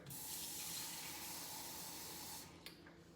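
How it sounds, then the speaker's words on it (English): More water poured into a cooking pot for egg bites, a steady hissing, spraying stream lasting over two seconds, close by, then stopping with a small clink. "Let me put just a little bit more water."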